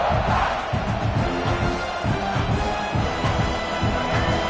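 A stadium crowd roars loudly and continuously in support of its football defense, a dense, sustained wall of cheering and shouting with rhythmic low stomping or thumping pulsing underneath throughout.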